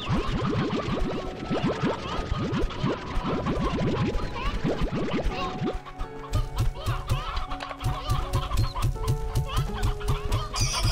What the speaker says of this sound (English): And the chickens just bounce over the place.